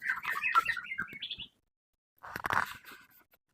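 A white-rumped shama (murai batu) in moult chirps in two bursts of bright, warbling notes separated by a silent pause, close and clear, with no talk over it.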